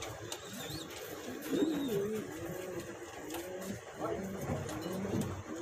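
A pair of King pigeons coo in soft, repeated low warbles close by, over a steady background hum, with a voice faintly audible.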